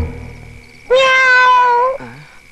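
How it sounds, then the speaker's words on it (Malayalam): A house cat in a kitchen gives one loud, drawn-out meow lasting about a second, close by, followed by a brief softer trailing note. "വല്ല പൂച്ചയോ മറ്റേ ആയിരിക്കും."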